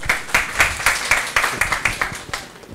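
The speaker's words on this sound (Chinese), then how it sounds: "那请到我们掌声欢迎 Edward" Audience at a Google developer meetup clapping to welcome a speaker: a short run of fairly regular, crisp claps from a small group, close and fading toward the end.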